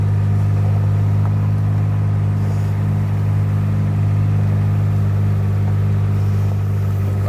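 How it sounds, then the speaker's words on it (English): A vehicle driving slowly around a farm pond, a steady low engine rumble with a constant drone, close and unbroken throughout. "So here I am driving around one side of the pond coming in."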